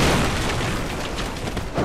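A firebomb bursts in Dark Souls 2 Scholar of the First Sin, giving a loud, full-bodied boom that rumbles on and then swells again near the end, with no talk over it.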